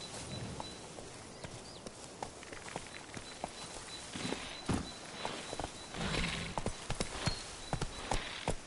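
Hoofbeats of Roach, Geralt's horse in The Witcher 3: Blood and Wine, clip-clop steadily at a walking pace on a hard surface, with a brief whinny and ambient outdoor sound in the background.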